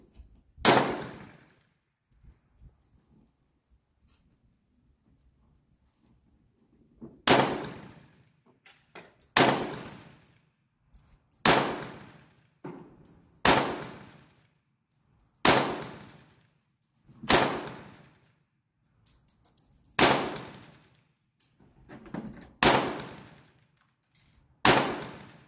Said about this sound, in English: Very accurate little pistol. I really enjoy shooting it.